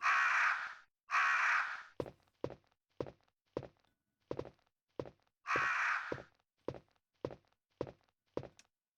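Crow cawing in the video game Resident Evil 1: two long caws, a run of evenly spaced thumping footsteps, then another caw as the steps continue.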